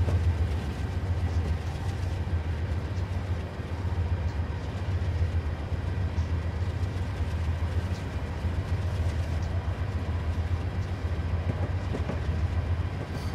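A diesel train in Train Simulator on the Bergen Line rumbles steadily along with a low, continuous drone and faint rhythmic clatter of wheels, loud and unbroken throughout with no voices.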